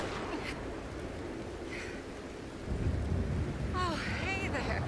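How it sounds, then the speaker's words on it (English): A thunderstorm in Red Dead Redemption 2 brings steady rain hiss with a low thunder rumble swelling midway, plus brief chirping sounds and a faint voice near the end. "This rain."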